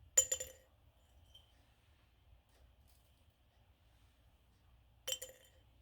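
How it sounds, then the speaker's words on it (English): Pieces of dehydrated beef dropped into a glass jar, two bright clinking tinks about five seconds apart, each with a short rattle, near and clear over a quiet room. "What the sound you should hear is when you drop one of these into your glass jar."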